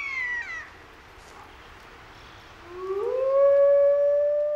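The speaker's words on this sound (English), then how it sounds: "Howling, the wolf call to arms, gathers the pack and warns other wolves to back off." Wolves howling in the Siberian wild, one long falling wail fading away, then after a pause another rising howl that swells and holds steady, far off and alone over a quiet background.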